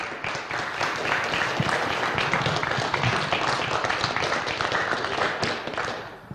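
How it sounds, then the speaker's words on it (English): Lively applause for racing drivers at a motorsport event's results gathering, a dense, fairly loud patter of many hands with a few sharper claps and thuds, sustained for several seconds before fading at the end. "So big round of applause for the drivers for that one,"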